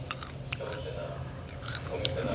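Crunchy chewing and biting on a cheese-flavored puffed grain snack, close to the mouth, with repeated soft crunches and light mouth noises through a steady room background.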